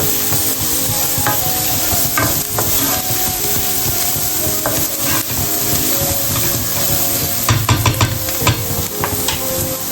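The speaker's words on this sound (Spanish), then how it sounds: "Mezclamos. Para que no se nos queme la cebolla." Chopped onion sautéing in a pan for stuffed zucchini with meat, with a steady loud sizzle and repeated scraping and clacking of a utensil as it is stirred; no voices.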